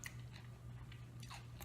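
Crunchy bites of pan-fried gyoza dumplings being chewed close up, a few crisp crunches breaking through soft mouth sounds with no talking.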